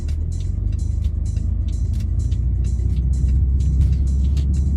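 Car engine idling and pulling through a turn at an all-way stop on Sackville Street in downtown Halifax, a steady low rumble heard from inside the vehicle, with faint traffic in the background.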